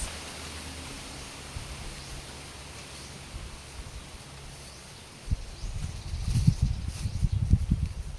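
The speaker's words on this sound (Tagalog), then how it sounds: "Sobrang hangin dito, mga guys." Steady, low roaring wind buffets the microphone, growing into heavier gusty rumbles toward the end.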